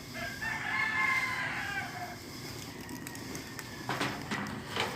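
A rooster crows loudly nearby in one long drawn-out call, followed by fainter clucks and scattered bird chirps over a soft outdoor background.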